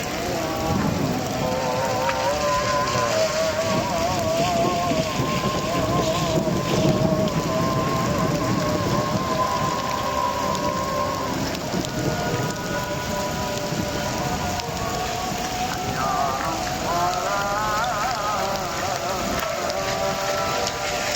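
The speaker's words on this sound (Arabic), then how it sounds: "هنا صوت المطر يبين، سمع صوت الرعد." Heavy rain during a thunderstorm in Fujairah, UAE makes a dense, continuous hiss and patter throughout, with no distinct thunderclap standing out.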